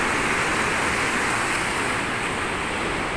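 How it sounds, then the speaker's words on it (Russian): Sea waves on the shore beside a wet embankment, a steady close broadband roar of surf washing in continuously, with no voices. "Волны вот такие вот."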